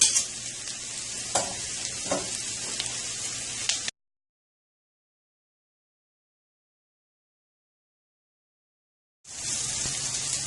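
Mushrooms sautéing in a pan for a mushroom and garlic quinoa dish, giving a steady broadband sizzle with a couple of brief scrapes, then a long silent gap before the hiss resumes.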